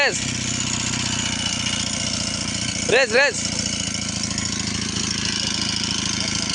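A nearby motorbike engine runs at a steady, loud idle while people prepare for a race, interrupted midway by a brief rising and falling wail.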